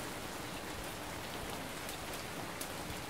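Steady rain in a survival video game pours down, a constant dense hiss of drops on surfaces with no voices, even and unbroken throughout.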